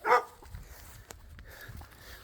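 A young dog at an off-grid homestead in Eua, Tonga gives a loud, close yelp or bark at the start, then low, soft whimpering and shuffling noises follow faintly for a couple of seconds.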